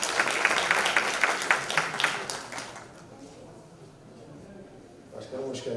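Audience applause at a Turkish Foresters' Association event, a dense patter of clapping for a few seconds that fades away, with a voice coming in near the end.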